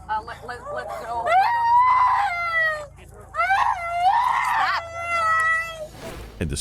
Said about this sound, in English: and the screaming continues.